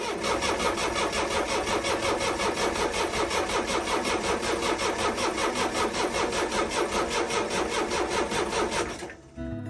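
A boat's marine diesel engine cranks on and on without catching, the starter churning in a steady rapid rhythm for about nine seconds before stopping abruptly, close and loud with no talk.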